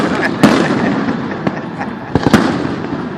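Fireworks burst over a Phillies baseball game, a few sharp, loud booms and pops standing out against a steady wash of crowd noise, with voices murmuring in the background.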